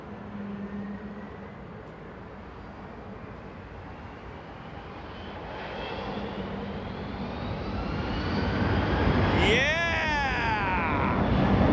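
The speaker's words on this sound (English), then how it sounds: "we're going to get a funky shot with a 330neo as well with Virgin Atlantic" A Virgin Atlantic Airbus A330neo jet takes off, its engine roar building steadily from a distant rumble to a loud, rising whine, with people talking over the growing noise.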